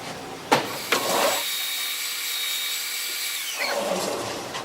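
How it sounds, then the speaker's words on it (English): Power sander working a cedar band saw box, with a couple of short bumps before it settles into a steady, close whine that holds for several seconds and then winds down. "we're going to sand that down smooth"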